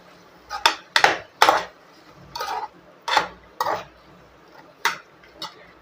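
A spoon scraping and knocking against a pan while eggplant and black chickpea curry is sautéed, a series of sharp, close clacks and scrapes at irregular intervals with quiet pauses between.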